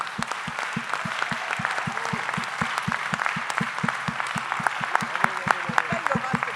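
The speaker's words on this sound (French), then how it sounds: "je vous demande d'applaudir encore une fois toutes les équipes" Audience applause for the event teams at a French tech gathering on stage, steady clapping from a crowd with a sharp rhythmic clap repeating up close throughout, loud and continuous.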